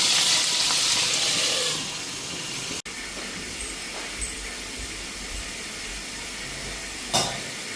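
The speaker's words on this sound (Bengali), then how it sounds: "এদিকে মাছ ভাজাটা হয়েছে" Boal fish frying in a pan on a gas stove, a steady broadband hiss and sizzle that fills the first two seconds, then settles to a softer continuous spit with a brief louder crackle near the end.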